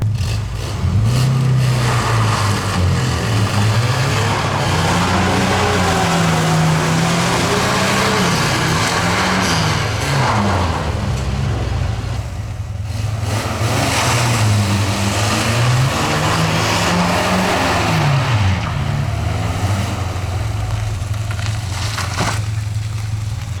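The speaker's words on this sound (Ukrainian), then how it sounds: "Я в шокі як заводяться ці Жигулі." A VAZ Zhiguli car engine runs loudly and continuously on dry asphalt, its pitch repeatedly rising and falling as it is revved while driving in circles, with no voices over it.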